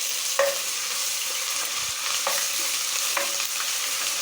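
Onions browned in a pan with whole garam masala and ginger-garlic paste fry with a steady close sizzle, broken by a few scraping stirs of the spoon.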